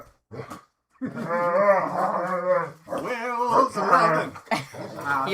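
Husky-like dog vocalizing close up with long, drawn-out howling yowls and scream-like wavering cries, loud and nearly continuous after a short pause.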